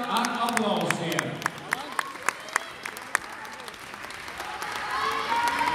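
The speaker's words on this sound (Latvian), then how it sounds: "Mēs sagaidām ar aplausiem." Audience applause at a ten-dance championship final, a crowd clapping with sharp individual claps over steady voices and a loudspeaker announcer talking.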